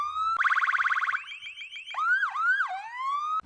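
A loud siren on a Rezvani Vengeance armored vehicle cycles through modes: a rapid warbling yelp, then a steady tone, then swooping wails, with no talking.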